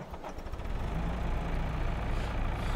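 A tractor engine in the farming game Farming Simulator 22 idles with a steady, loud, low rumble and a faint mechanical drone, heard alone with no talking.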